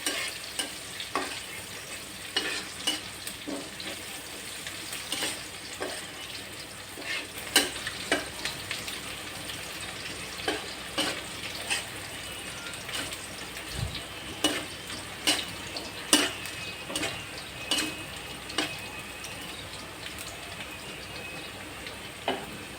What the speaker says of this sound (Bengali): এটা একটু লাল লাল করে ভাজবো, যাতে তরকারি ঝোলের সাথে মিক্স হয়ে যায়